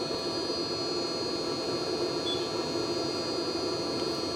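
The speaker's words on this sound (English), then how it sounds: "it's made a beeping noise" A diesel/petrol heater gives a steady high-pitched electronic beep continuously over a faint mechanical hum on reaching 80 degrees, with no talking.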